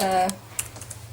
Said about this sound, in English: oh dear, this keyboard's very bad. It's tricky when you first start using this keyboard.